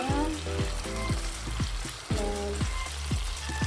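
Honey garlic chicken sauce with vinegar bubbling and sizzling in a pan, a busy continuous crackle with a rapid run of popping bursts, close and fairly loud, with no talking.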